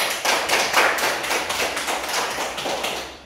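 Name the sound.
applause for a group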